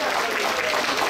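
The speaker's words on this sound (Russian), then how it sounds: "Ваши аплодисменты!" An audience claps at the SKOLKOVO Sailing Trophy 2016 business regatta at Royal Yacht Club Moscow, a short, dense burst of steady applause close up and fairly loud.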